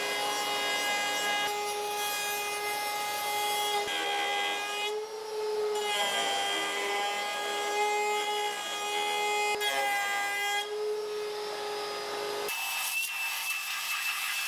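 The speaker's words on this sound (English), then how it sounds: "I put a flush trim bit on my router to use on the template." A router fitted with a flush trim bit cuts wood along a template for a push stick, giving a loud continuous high whine with stacked overtones that cuts out briefly a few times and changes pitch near the end.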